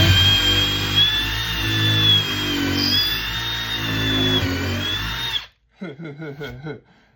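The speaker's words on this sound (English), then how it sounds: "I'm gonna drill my pilot hole here" A power drill whines steadily at high speed for several seconds drilling a pilot hole, then cuts off abruptly, leaving a few quieter clicks and rattles.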